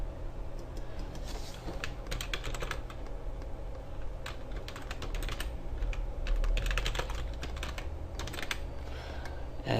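Keys clatter on a computer keyboard as a password goes into a router VPN user setup, a steady run of close, quick clicks for about ten seconds with no talking.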